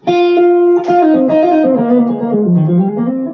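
Electric guitar played through a J-Rocket Dude overdrive pedal into a Mesa Boogie amp, a short legato phrase of sustained, gliding notes with mild overdrive, loud and close with no one talking.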